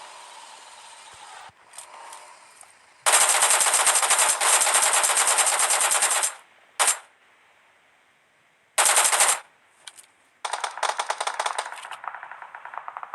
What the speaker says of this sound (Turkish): Silah sesi aşırı yakın.